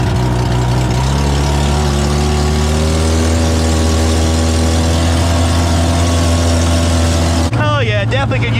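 A Polaris Ranger utility vehicle engine idles loud and close with a deep, throaty straight-pipe drone that holds steady, then shifts pitch near the end.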